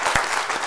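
A studio audience at a comedy game show breaks into a short burst of dense, loud applause lasting under a second.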